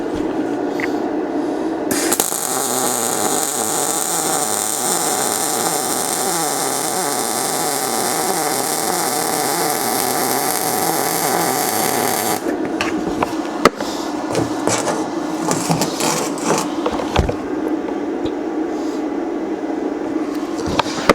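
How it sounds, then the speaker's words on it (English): A cheap Amazon welder runs a bead on the inside of a metal piece, giving a steady, loud, crackling hiss for about ten seconds before the sound turns rougher and more broken. "Try to weld the inside of this thing."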